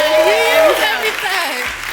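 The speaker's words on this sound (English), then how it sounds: "let's clap it up for them." Clapping from a small group celebrating a friend's film debut, running as a steady patter under a loud, close voice that talks throughout.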